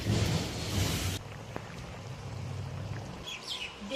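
Water is poured into a pot of frying jackfruit and potato curry, a loud, rushing splash for about a second, then a softer bubbling hiss as it settles, with faint bird chirps in the background.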